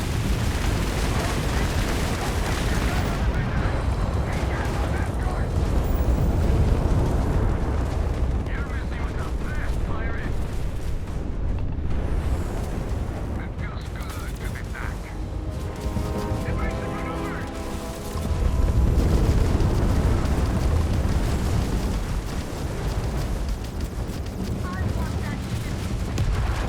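Spaceship explosions and gunfire in the space combat of Starfield, dense booming blasts and rapid weapon fire layered with game effects, loud and continuous, with a voice speaking over parts of it.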